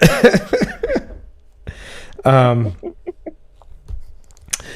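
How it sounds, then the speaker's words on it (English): A short, dry cough rings out between bursts of conversation, with people talking before and after it. "That was a dry cough."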